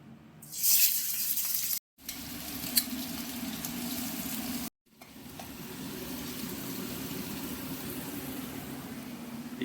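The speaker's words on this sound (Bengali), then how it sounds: "তেলটা গরম হয়ে গেছে এবার এর মধ্যে আগে বেরেস্তা করে নেবো" Sliced onions frying in hot oil for mutton biryani, a steady broadband sizzle with a brief loud burst near the start and two short cuts, otherwise continuous and close.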